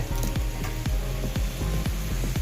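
Pieces of katla fish are added to hot oil in a pan, giving a loud, close, continuous sizzle with repeated crackling pops throughout.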